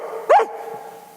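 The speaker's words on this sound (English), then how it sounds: "That's a dog, Ezra." A dog gives a single sharp bark, close and fairly loud, over a steady low background hum in a chapel theatre setting.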